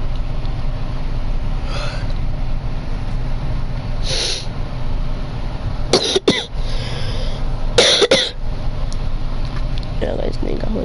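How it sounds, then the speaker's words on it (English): A person coughing near the microphone, two short harsh bursts a couple of seconds apart over a steady background hiss. "So you guys might be hearing me cough, sneeze,"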